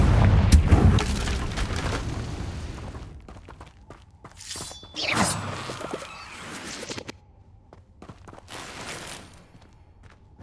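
A Confringo spell blast in Hogwarts Legacy on PS5: a heavy explosive burst with shattering debris and crackling impacts, followed by scattered fiery crackles, thuds and magical swishes that trail off.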